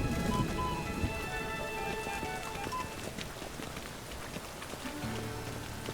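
Rain falling in The Witcher 3 video game, a steady soft patter of drops on surfaces, fairly quiet and continuous with no talking.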